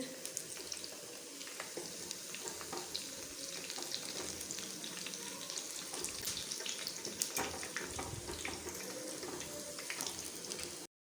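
Eggplant finger chips deep frying in oil, a soft continuous bubbling sizzle with scattered crackles and pops, faint and close, running steadily for about eleven seconds with no talk before cutting off.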